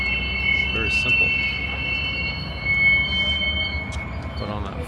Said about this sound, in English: on that far side is where the train is getting pushed up the hill